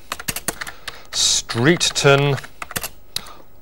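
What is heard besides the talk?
typing on a computer keyboard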